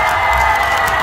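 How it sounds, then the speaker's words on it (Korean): A crowd at an outdoor lantern festival concert in Incheon claps and cheers together, a dense, steady wash of applause and shouts that holds for the whole moment. "자, 다같이 공감이 되신다면 박수와 함성!"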